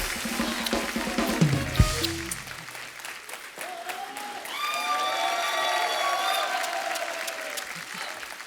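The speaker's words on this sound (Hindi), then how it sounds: "जोरदार तालियां मलाइका, टेरेस और गीता मैम के लिए।" A studio audience at a television comedy show bursts into loud applause that fades after a few seconds, and bright music with sustained tones takes over.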